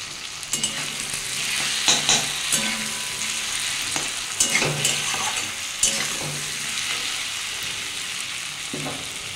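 Ginger garlic paste sizzles with fried potatoes, onions and melted tomato in a pan, a steady close frying hiss broken by repeated scraping strokes of a stirring spoon.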